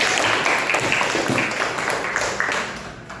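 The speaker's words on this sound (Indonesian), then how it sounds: "Oke, beri tepuk tangan bagi kelompok" A school class in Indonesia claps for the first student group, a moderately loud burst of many hands with a few sharper individual claps, fading toward the end.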